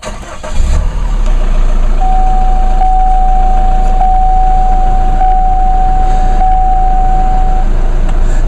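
Car engine cranks and catches, then settles into a loud, steady idle that runs on close by, with a thin tone held above the engine hum for several seconds.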